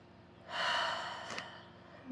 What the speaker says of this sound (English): Let's do some big belly breaths together.